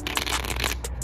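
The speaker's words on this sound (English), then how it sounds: "we're gonna shuffle these cards right here." A deck of playing cards is shuffled up close, a rapid riffling flutter of card edges lasting about a second with a short pause near the end.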